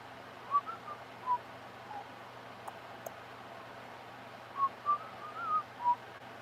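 A person whistles a film score melody in short, clear phrases with pauses between, fairly faint against a quiet indoor background.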